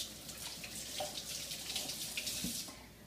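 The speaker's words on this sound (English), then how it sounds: "I'm going to rinse my hands off." A kitchen tap running steadily while hands are rinsed under it, a soft continuous splashing with small shifts as the water hits the hands.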